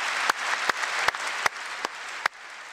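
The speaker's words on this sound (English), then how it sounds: "Wow, loud ass clapping right there." Loud, dense applause from a large chamber audience at the 2018 State of the Union address, a steady wash of clapping punctuated by several sharp, louder claps standing out near the listener.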